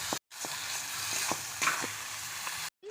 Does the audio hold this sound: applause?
no